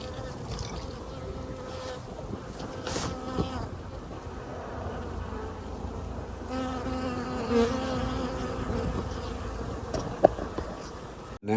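Bees buzz steadily around flowering ivy outdoors, a continuous droning hum from many insects with individual ones swelling nearer at times, a few light knocks, and no talking.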